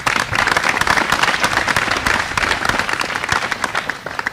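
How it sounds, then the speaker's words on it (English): A crowd at a school valedictory ceremony gives a round of applause, loud, dense clapping with sharp individual claps standing out, steady throughout and easing slightly at the end. "Boys, give them a round of applause"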